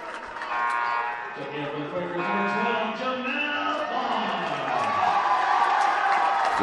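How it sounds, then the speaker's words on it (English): A college basketball crowd at an Earlham versus Wilmington game cheers and applauds for player Jamel Barnes, a steady roar of many voices with an announcer talking over it throughout. "So Jamel gets a hand from the crowd."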